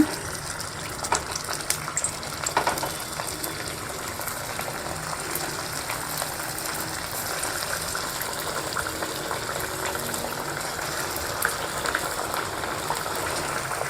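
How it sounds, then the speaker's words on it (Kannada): Sweet pumpkin garige dough rounds deep frying in hot oil, giving a steady, even sizzling and bubbling hiss, close up, with no voices. "ಈಗ ಇದನ್ನು ನಾವು ಒಂದೊಂದಾಗಿ ಎಣ್ಣೆಯಲ್ಲಿ ಡೀಪ್ ಫ್ರೈ ಮಾಡಬೇಕು. ಎಣ್ಣೆ ಚೆನ್ನಾಗಿ ಕಾದಿದೆ."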